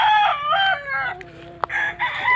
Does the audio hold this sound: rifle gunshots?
no